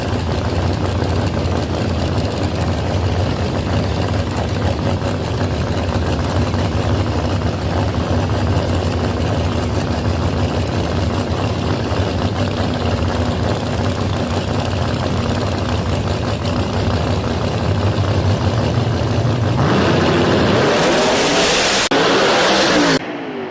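Ford Mustang drag car at a motorsports park, its engine rumbling loudly at idle for a long stretch before a sudden roaring launch that tears away down the strip near the end.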